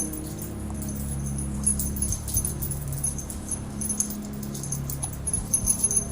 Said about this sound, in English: Where'd the dog come from?